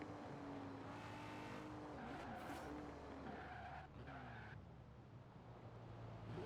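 A car engine in the video game Forza Horizon 4 revs and shifts through gears with tire squeal, rising and falling pitch, loud and continuous with no speech.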